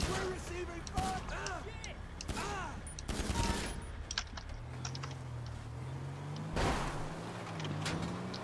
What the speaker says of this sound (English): We're receiving fire.